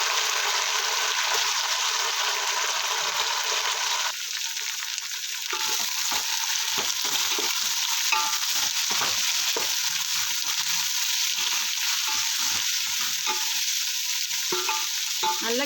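Onions sautéing in a pan for chicken biryani give a dense, continuous close sizzle for the whole stretch, with light scraping stirs ticking through it and no talk.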